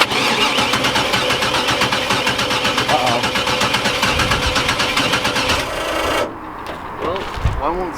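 A Hyundai engine with a blown head gasket cranks in a rapid, rasping, rhythmic churn, loud and close, before cutting off abruptly, with faint voices after it stops.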